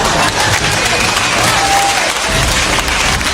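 Loud, dense crowd applause filling a lecture hall in response to a question from the presenter, a sustained roar of clapping throughout.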